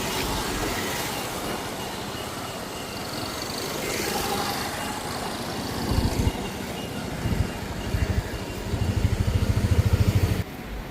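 A motorbike engine runs as a low, continuous rumble on arrival at a hospital, with heavier throbbing pulses building toward the end before it cuts off.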